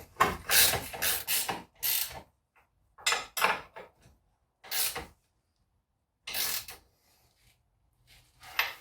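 A hand ratchet tightens rear suspension bolts on an Audi A4 B7, with several bursts of quick clicking separated by pauses. The clicks are close and fairly loud, and no one speaks.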